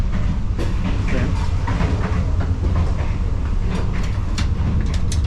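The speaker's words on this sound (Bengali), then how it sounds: "এখান থেকে ট্রেনের জার্নিটা বেশ ভালোই লাগছে।" Passenger train in Kenya rolling along the rails, a loud continuous rumble heard from inside the carriage with rhythmic clicking of the wheels throughout.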